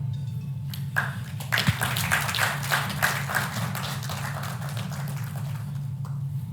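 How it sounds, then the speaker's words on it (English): An audience applauds panelists at a literary festival session on air operations, a dense wash of clapping that swells and then fades over a low hum in the hall. "another big round of applause for our panelists once again, please"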